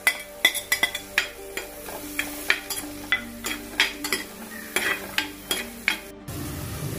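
Onion and green chilli sauté in a pan for a fish curry, with a spoon scraping and clinking against the metal in quick, regular strokes over a soft, steady sizzle.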